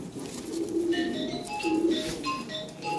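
A Lahori pigeon coos a few times at close range, soft low calls heard among other birds chirping faintly in the background.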